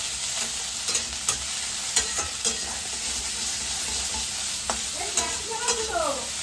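Vegetables sizzle and fry in hot oil, with a steady hiss and sharp scraping stirs at irregular intervals, close and fairly quiet.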